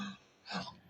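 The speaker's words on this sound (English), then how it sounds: "I didn't mean to cough in your ear" A single short, muffled cough or throat-clearing bursts out close by after a brief breathy sound, with no talking.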